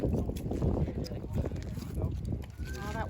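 Strong wind buffets the microphone outdoors during a kettle boiling competition in the woods, a continuous low roar with gusty swells and faint distant voices mixed in.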